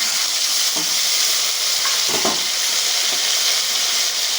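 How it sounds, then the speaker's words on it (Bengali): Ground spice paste hitting fried potatoes in a hot pan, a loud continuous sizzle with a few stirring scrapes and bumps, nobody speaking. "আলুগুলো আমার ভালো করে ভাজা হয়ে গেছে, এবার আমি বেটে রাখা মশলাটা দিয়ে দিচ্ছি।"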